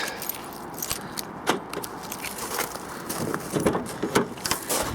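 Keys jangle and scrape in bursts while being dug out from where they are buried, beside a locked Nissan Micra K12 1.2 hatchback, the clinking close and irregular over soft rustling.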